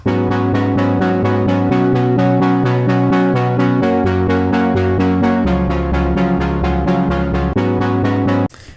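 A loud, bright melodic loop from a sample pack in a major key, rapid repeating plucked notes over sustained chords, playing continuously before cutting off abruptly.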